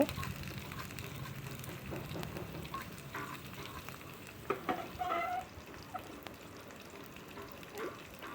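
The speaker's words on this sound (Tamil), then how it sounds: "இப்போ நம்ம தாளித்து கொட்டிக்கலாம்" Tempering with small onions fried in oil and poured into a dal and greens curry: soft, continuous sizzling and spattering close by, with a brief louder burst of crackle partway through, then settling.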